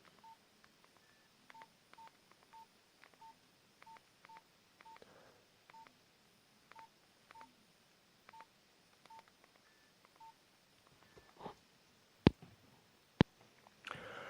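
A Nokia 105 mobile phone from 2013 gives a string of short, evenly spaced keypad beeps with soft handling clicks between them, then a few sharp clicks at the end. No one speaks.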